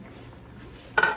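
Mussels for a Jamaican-style curry are being stirred in a boiling pot, giving a short burst of metal utensil scraping and clinking against the pan near the end after a quiet simmer.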